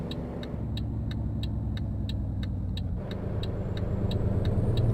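A truck in Euro Truck Simulator 2 drives along with a steady, low engine drone, plus a regular ticking like an indicator running over it and a shift in engine tone partway through.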